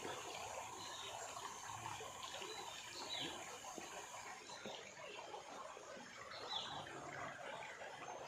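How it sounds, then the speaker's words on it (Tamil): A steady, soft rush of a clear forest stream flowing, continuous and even throughout, with no voices. "தண்ணி தான் லைட்டாக போகுது, தெளிவாக போகுது"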